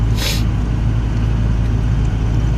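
A 1998 five-speed Volkswagen Jetta, engine damaged after a big bang from a reverse gear mistake, running with a steady low rough drone and a brief hissy burst near the start, close and without speech.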